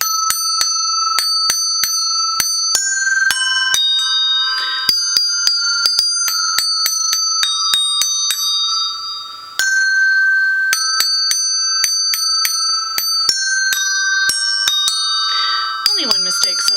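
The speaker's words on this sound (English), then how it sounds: "Let's see if I can do Jingle Bells." Hand bells struck with a mallet ring out the tune of Jingle Bells, bright metallic tones sounding in a steady rhythm with sustained overlapping ringing, close and clear.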